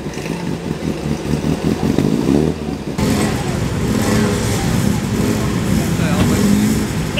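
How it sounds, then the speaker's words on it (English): Vintage six-cylinder race cars warming up in the paddock before morning practice at a hillclimb, a loud continuous engine rumble and revving with a clattering idle, as someone talks over the noise. "There are a couple of 6-cylinder cars here somewhere, probably more down there. A couple of them warming up before the morning practice runs"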